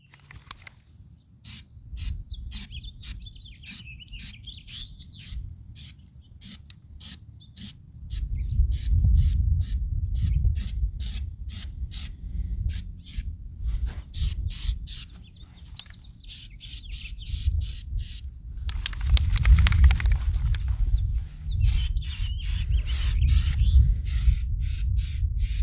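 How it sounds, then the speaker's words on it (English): Waterproof sealant aerosol sprayed onto the outside of a bucket with holes: long runs of rapid, crisp hissing bursts in a steady rhythm over a low rumbling background, loud and close with no voices. "So what I'm going to do is I'm going to spray the outside"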